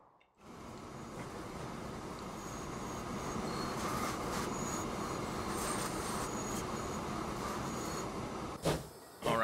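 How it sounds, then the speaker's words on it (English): Steam trains roll along the rails in the Transport Fever 2 video game, producing a steady, continuous rumble with wheel squeal and faint clatter, ending in a brief louder burst. "the engines are going to basically steam towards the docks"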